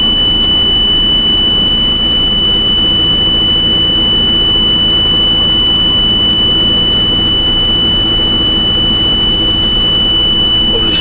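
A steady, loud electronic beeping tone persists unbroken for the full length, sitting over a constant background hum with no voices present.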